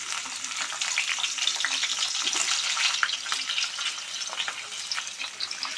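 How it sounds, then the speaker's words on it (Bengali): Sliced onions fry in hot oil in a pan, a steady close crackling sizzle that runs throughout at moderate volume, with no talking. "এখানে আমি কেটে রাখা পেঁয়াজ, টমেটো এগুলোকে ফ্রাই করে নেব। আমি পেঁয়াজটা দিয়ে দেব।"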